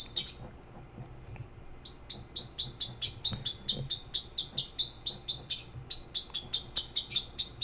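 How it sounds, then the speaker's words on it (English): Pet birds indoors chirp in a fast, steady series of sharp, high repeated notes, loud and close, after a brief opening call and a short pause. "I'm gonna put the birds,"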